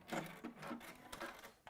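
Sewing machine running stitches across elastic, a close, quiet mechanical whir in several short bursts with brief pauses, no talking.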